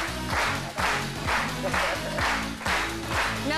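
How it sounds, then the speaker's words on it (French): A TV studio audience applauds the arriving guest, a steady wash of clapping that fills the room throughout, with music playing underneath. "On applaudit pour Moussou."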